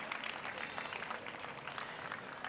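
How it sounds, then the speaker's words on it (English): Audience applause after a dance performance at an event, a steady wash of clapping from many hands that holds evenly for the whole stretch, with no voices over it. "Let's give them a really special round of applause."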